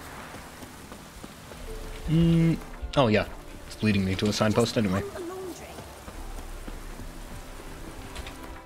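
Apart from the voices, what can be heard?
rain in video game The Witcher 3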